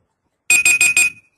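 Google Search's built-in timer alarm going off: four quick, identical high electronic beeps in a steady rapid pattern, clear and loud with nothing else underneath.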